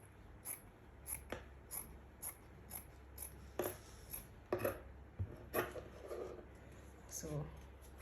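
Scissors cutting trouser fabric while tailoring trousers: a series of crisp snipping clicks at an irregular pace, some with soft rustling of cloth, close and fairly quiet over a low background hum.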